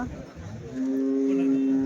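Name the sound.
cow mooing at cattle market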